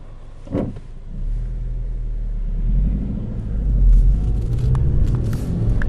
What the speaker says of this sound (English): Well, seems to be major traffic here.